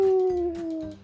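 A dog-like howl from Minecraft rings out in one long, steady, slightly falling tone. It is fairly loud and close, with faint game sounds beneath it.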